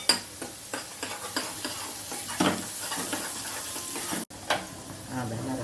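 Kolhapuri masala for mutton rassa roasting in a pan, soft sizzling with repeated scraping and stirring strokes, fairly quiet and close, with faint speech.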